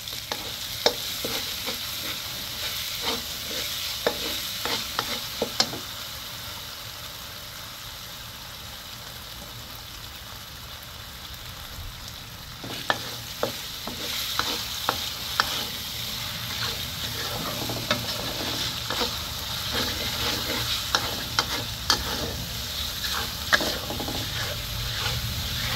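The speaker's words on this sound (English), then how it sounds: "Let it simmer for 15 minutes." Chilli sauce made with a whole bottle of chili sauce simmers and sizzles softly in a pan, with intermittent clicks and scrapes of stirring over a steady bubbling hiss.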